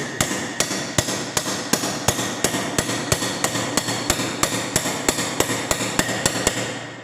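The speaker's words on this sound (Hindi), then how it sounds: "छेनी और हथौड़े के द्वारा किसी धातु की सतह से धातु की परत को हटाना चिपिंग कहलाता है।" Hammer blows on a chisel chip a layer from a metal surface in a fitter's workshop, about twenty sharp metallic strikes in a steady, even rhythm, close and loud, with no talking.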